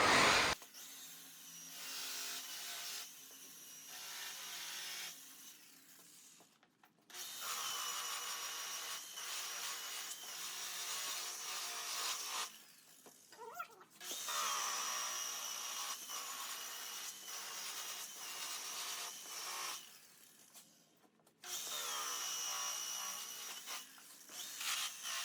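A power tool runs in several long bursts with short pauses between them, spinning a polishing wheel loaded with rouge against a car wheel, a steady whirring rub heard close and alone.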